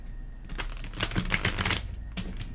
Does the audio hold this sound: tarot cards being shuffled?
yes